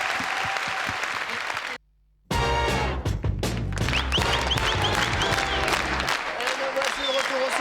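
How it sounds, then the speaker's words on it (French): A studio audience at a French radio show in Studio 102 of the Maison de la Radio claps, with a brief silent gap before the applause swells up, mixed with music-like tones. "Applaudissements pour elle, s'il vous plaît."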